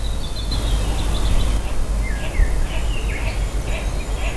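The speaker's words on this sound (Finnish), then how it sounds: "Lintujen ääniä kuuluu, mutta ei ehkä mitään muuta." Birds sing outdoors at Lake Bodom, with thin chirps and short warbling phrases coming from some distance over a steady low rumble of wind and background noise.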